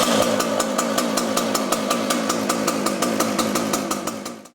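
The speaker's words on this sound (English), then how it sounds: "Use your right hand to pull the starter cord. This is the safest method for starting saws." ICS 695 series saw running after a pull-cord start, a loud, close engine buzz with rapid regular firing pulses that holds steady and then cuts off abruptly at the end.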